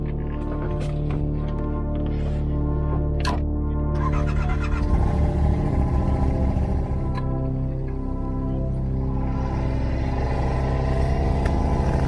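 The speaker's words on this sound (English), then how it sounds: "back to the four-wheeler" A four-wheeler ATV engine idles and runs steadily on a rough ridge trail during a hunt, a continuous close rumbling drone that shifts slightly in pitch partway through.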